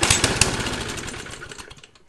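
Small engine on a 20-inch McLane reel mower sputtering to life after a tune-up, a loud rapid chugging that starts strong and gradually fades and slows over about two seconds, with no talking.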